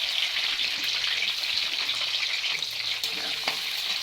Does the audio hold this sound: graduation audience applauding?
no